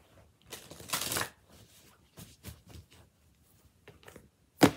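A deck of oracle cards is shuffled by hand in short bursts of riffling and flicking, close and crisp, with quiet pauses between and a sharp final slap.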